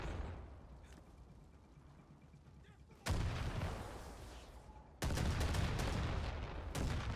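Gunfire from the video game Far Cry 6 starts quietly and far off, then two sudden, loud bursts of rapid shooting and explosive blasts follow, with no talking over them.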